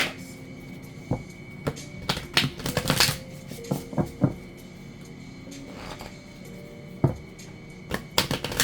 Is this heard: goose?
no